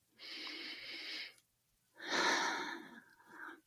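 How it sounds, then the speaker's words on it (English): Two slow, deep breaths, each a long airy inhale or exhale lasting over a second, close and alone in a quiet space with a short pause between them. "take a breath and just breathe in"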